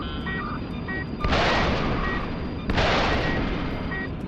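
Missiles fire in the video game Frontiers Reach, two loud roaring whooshes launching a second or so apart over a steady engine drone, with a few short electronic beeps in between.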